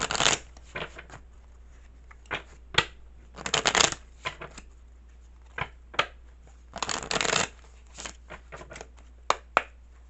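Tarot cards are shuffled by hand in close, crisp bursts of riffling and slapping, separated by short quiet pauses, with no talking.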